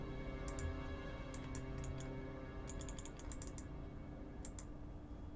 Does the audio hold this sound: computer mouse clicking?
yes